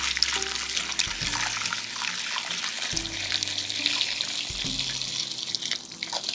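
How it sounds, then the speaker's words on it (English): Broth pours and splashes as it is strained from a rice cooker pot for a Japanese KFC rice recipe, a continuous close, bright liquid rush with low tonal hums and clunks of the pot shifting underneath. "I don't know if I can do it, but we need to strain this thing."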